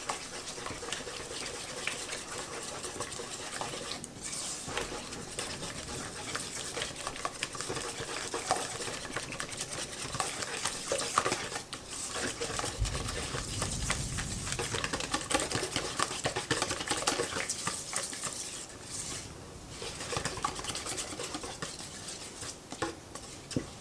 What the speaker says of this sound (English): I'm just going to whisk together until we make sure all the chocolate is melted and it's nice and smooth